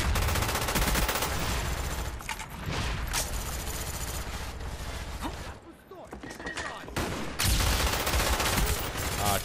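Rapid automatic gunfire in the shooter game Call of Duty: Black Ops, loud bursts of machine-gun fire and explosions in dense, continuous volleys, with a player talking over the action.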